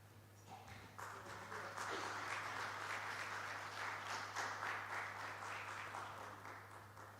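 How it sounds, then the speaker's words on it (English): A crowd applauds newly notified agencies at a launch event, with even clapping rising after the first second and holding steady, fairly quiet and somewhat distant, over a constant low electrical hum. "A big round of applause for the newly notified agencies."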